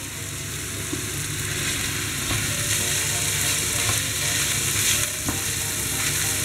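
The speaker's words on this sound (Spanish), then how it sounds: "ahora los vamos a rehogar junto con la carne y la cebolla" Chopped boletus mushrooms sauté with meat and onion in a pan, making a dense, steady sizzle close by, with a few light utensil clicks and scrapes over the frying and no voices.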